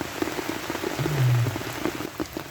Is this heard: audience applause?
no